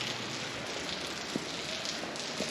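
Rain falls on cobblestone streets in Leukerbad, making a steady, even hiss of many small drops with a few slightly louder taps. No voices are heard.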